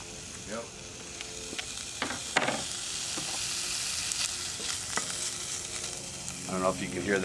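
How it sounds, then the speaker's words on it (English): Bacon sizzles and spatters in a Dutch oven, a steady crackling fry with occasional scrapes and stirring clanks close by. "let's get this bacon in here and get it sizzling"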